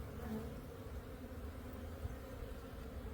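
Steady, low hum of honeybees crawling over a hive frame in a backyard apiary, fairly quiet and continuous throughout with no speech.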